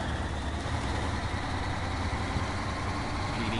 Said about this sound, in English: The sound of a nice internal combustion engine is